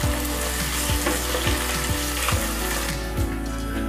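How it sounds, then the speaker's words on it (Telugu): Ginger-garlic paste frying with onion paste in a pan, a loud, steady sizzle close up with periodic scraping strokes from stirring. "ఇప్పుడు ఇందులో 1/2 టీ స్పూన్ అల్లం వెల్లుల్లి పేస్ట్ వేసి మరి కాస్త ఫ్రై"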